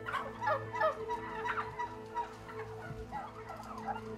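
Turkeys gobble in a crowded factory farm shed, with repeated bursts of calls from several birds over a low steady mechanical hum.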